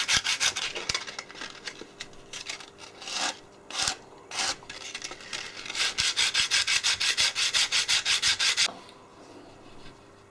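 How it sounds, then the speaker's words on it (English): A clay axe model is rubbed with yellow sandpaper, first in separate scratchy strokes, then a steady rhythmic run of close, raspy back-and-forth sanding strokes before it stops. "I've got some Neolithic sandpaper"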